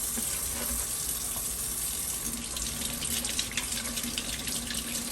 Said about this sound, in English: After I pick the strawberries that I want to use, I wash them.